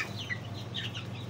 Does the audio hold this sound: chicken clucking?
yes